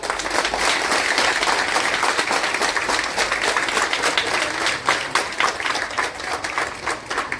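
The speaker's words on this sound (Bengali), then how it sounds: "আমরা সকল কাছ থেকে এটা বড় ধরনের হাততালি আশা করি" Audience at a political event in Dharmanagar, Tripura, applauding in a dense, sustained wash of many hands clapping that stays loud throughout and thins slightly near the end.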